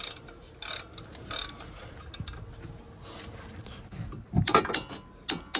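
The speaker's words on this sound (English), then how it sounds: "So now I'm using the torque wrench" A torque wrench tightening the front brake caliper bolts on a Mazda CX-5 to 75 foot-pounds, heard as a few sharp metallic clicks and ratcheting snaps close by with quieter mechanical fiddling between them.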